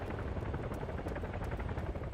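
Helicopter in the Arma 3 military game, a steady broadband rotor drone with faint rhythmic chopping, moderately loud and continuous, with no talk over it.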